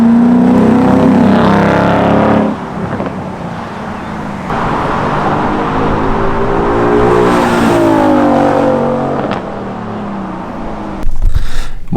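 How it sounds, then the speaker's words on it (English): A 2015-2017 Mustang GT with MagnaFlow Competition Series or FlowMaster axle-back exhaust drives past, loud and close, its deep burbling note rising and falling as it revs by, followed by a sharp burst near the end. "Nick's gonna do a drive-by, and we're just gonna get like an exhaust noise"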